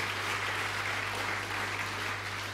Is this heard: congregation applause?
yes